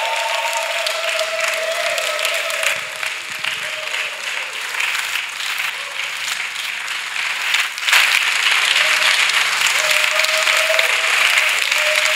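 A church congregation applauds and cheers for Jesus Christ at a spiritual gathering, a sustained wash of dense clapping from a large crowd that swells louder near the end.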